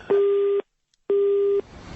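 A telephone busy signal sounds on a prank call after the line is cut off: two steady, identical tones separated by a short silence, loud and close.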